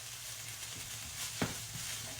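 Steady frying sizzle from a tomato-based sauce mixture being stirred in a pan, with a brief scrape of the utensil near the middle, fairly quiet and with no talking.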